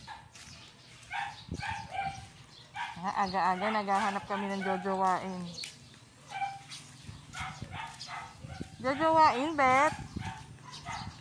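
Chow chow dog giving several yipping barks and drawn-out whimpering whines in bursts, close by, with a person talking around and between the sounds.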